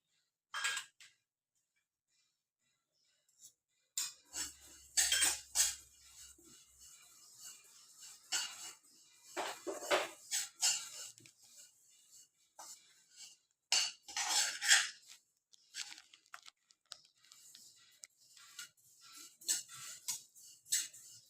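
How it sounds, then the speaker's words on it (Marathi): Sesame seeds roasting in a pan, a quiet series of scattered clinks and scraping stirs against the metal, in bursts separated by near-silent gaps, close by with no talk. "तीळ चांगले मस्तपैकी खमंग भाजायचे"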